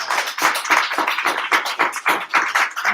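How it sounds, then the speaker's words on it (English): Sustained applause from a crowd at an indoor men's mental health community event, dense rapid clapping with many overlapping hands, steady and loud throughout with no talking. "I'll give another hand clap for Mr. James Harris."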